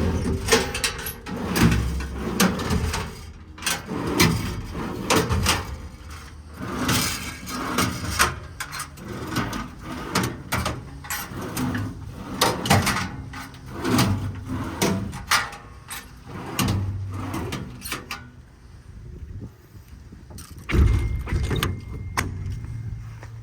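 Heavy-duty storage drawers on the service body of a 2013 International mechanics crane truck being pulled open and shoved shut repeatedly, sliding rumbles and metallic clunks and latches in irregular succession, close by, quieter near the end.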